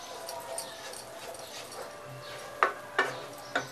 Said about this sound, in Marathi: मंद स्टोवरती, स्लो फ्लेमवरती छान आपण मिक्स करून घ्यायचे, शिजवून घ्यायचे